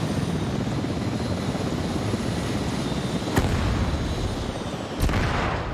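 A steady roar of helicopter rotors and engine in a large-scale multiplayer war game fills the scene, broken by two sharp, loud blasts, the second heavier, as an RPG strikes a Mi-24 helicopter.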